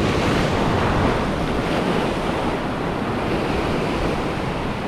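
Steady ocean surf roars continuously with wind buffeting the microphone, loud and unbroken throughout.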